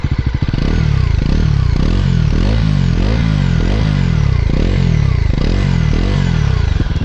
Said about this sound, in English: The exhaust note once. This is with the mic which is inside my helmet.